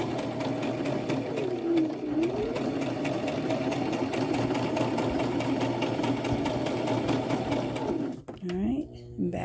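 A sewing machine runs steadily at close range, its needle whirring in a fast continuous rhythm while stitching fabric for a beginner bracelet, stopping briefly near the end; a voice speaks faintly beneath the motor.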